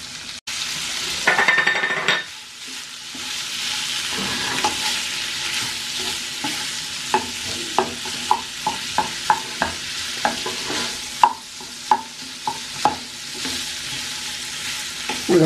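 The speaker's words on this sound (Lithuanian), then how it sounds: "Dedam kartu, todėl kad šoninė smulkiai supjaustyta ir manau iškeps normaliai abu kartu." Finely cut hot-smoked bacon and potatoes sizzle in a frying pan while a utensil stirs them, with a steady hiss broken by a run of sharp rhythmic clinks and scrapes against the pan.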